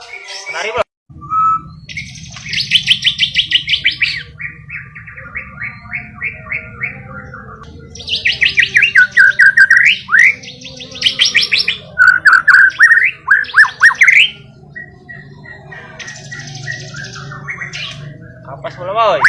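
A canary sings loud, bright trilling and chirping phrases in several bursts separated by pauses, close to the listener, over a low background hum.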